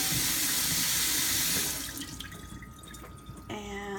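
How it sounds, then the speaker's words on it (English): Water runs steadily from a kitchen sink tap while nuts are strained and the jar is rinsed, a loud continuous rush that thins and becomes splashier midway, with clinks of glass near the end. "So over here at the sink, strain the nuts. Typically I'll kind of rinse the jar out,"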